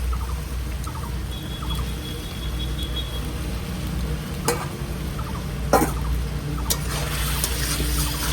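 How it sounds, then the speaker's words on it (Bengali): Prawns dropped into jackfruit curry frying in mustard oil, giving a steady close sizzle and hiss with a few sharp clinks of a utensil against the pan. "চিংড়ি মাছটা দিয়ে দিচ্ছি"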